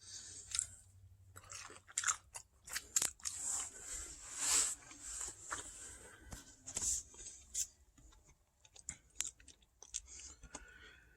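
Crunchy onion ring chewed close to the mic, with sharp crisp crackles and bites in uneven bursts over quiet gaps, loud against a near-silent room.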